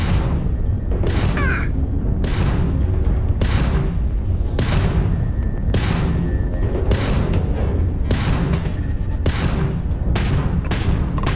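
Space combat in the game Starfield, with ship gunfire and explosions: a dense, continuous barrage of booms and rapid shots, loud and close, with thumping blasts layered throughout and no pause.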